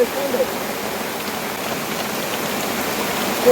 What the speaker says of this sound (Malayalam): ഒരു ചൊരിയണ മഴ